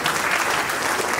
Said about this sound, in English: A big round of applause for the moderators.